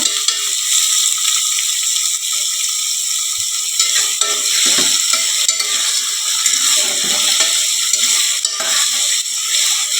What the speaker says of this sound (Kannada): ಉಳ್ಳಾಗಡ್ಡಿ ಫ್ರೈ ಆಗಿಲ್ಲ ಇಷ್ಟು ಒಮ್ಮೆ ಹಾಕ್ಕೊಂಡು ನಾವು ಫ್ರೈ ಮಾಡ್ಕೊಳ್ಳೋದು ಈಗ